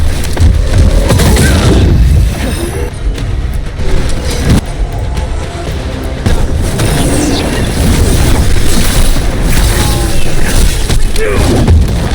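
Gunfire and explosions from a combat scene in Dragon Age: The Veilguard, a loud, continuous barrage of booms and rumbling blasts filling the whole stretch, with bursts of heavier impacts throughout.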